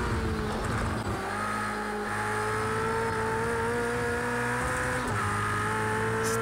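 A Ferrari race car in Project CARS 2 roars close and loud at a high, steady pitch, with the engine note shifting slightly through gear changes over a constant tire and wind rush.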